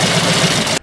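A 780 cubic inch big block engine on a bush plane runs loud and close, a dense steady roar with a low pulsing thump throughout, cutting off abruptly near the end.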